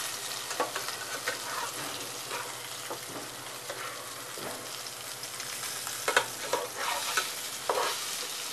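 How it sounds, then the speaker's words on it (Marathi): Ghol fish frying in a nonstick pan, a steady broadband sizzle with scattered stirring and scraping clicks, close and moderately loud, with no talking. "आता दुसऱ्या बाजूने पण आपण मस्त तळून घ्यायची"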